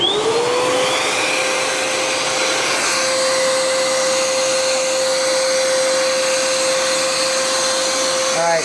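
A Bissell Powerglide Pet vacuum cleaner runs on maximum suction, a loud steady whine with a sustained tone holding constant throughout, close and continuous with no voices over it.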